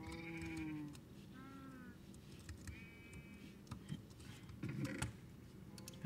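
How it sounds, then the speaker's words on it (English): Sheep bleating in the Minecraft-like game XC craft on a farm as sheep are sheared, several wavering bleats spaced through the clip over a busy background of game sounds and clicks. "I shear the sheep."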